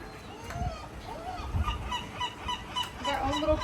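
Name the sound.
seagull calling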